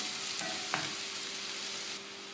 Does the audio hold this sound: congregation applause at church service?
no